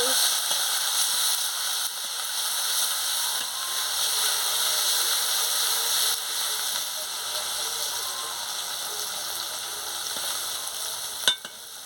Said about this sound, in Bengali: হলুদ গুঁড়ো দিয়ে দিচ্ছি দিয়ে মশলাটাকে ভালো করে ভেজে নিচ্ছি